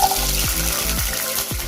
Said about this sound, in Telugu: పచ్చిమిరపకాయ ముక్కలను వేయించుకుందాం.